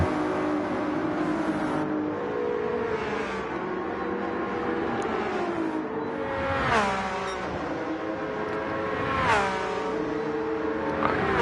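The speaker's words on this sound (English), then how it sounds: "Itsumi Dan's going for a move here on Silly Shot as they come down the hill towards this right-hander" Porsche and Ferrari race cars in a challenge race run side by side downhill toward a right-hand corner, their engines droning steadily with rising and falling revs as they shift and accelerate, loud and close with no talking.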